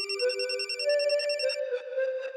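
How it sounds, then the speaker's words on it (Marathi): A telephone rings in a Marathi TV serial scene, a steady electronic trill with bright repeating tones that carries on for a couple of seconds and then rings again, clear and close with no talk over it. "घ्या, आला फोन."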